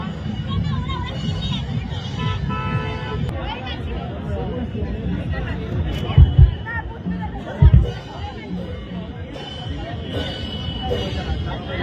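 A dense crowd chatters at a Saraswati Puja pandal in Batanagar, a steady hubbub of many voices close by, with a couple of brief louder thumps partway through.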